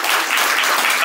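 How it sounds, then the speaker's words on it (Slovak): Steady applause from an audience at an art exhibition opening, a dense continuous wash of clapping that fills the whole moment without pause. "Áno, potlesk."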